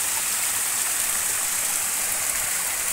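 Water pours down the steps of a terraced rice field in a continuous, loud, close rushing hiss with no breaks.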